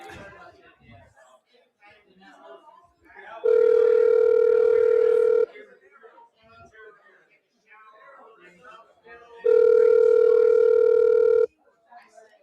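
A telephone rings twice on a call, with long steady tones separated by a pause, and people chatter and talk between the rings.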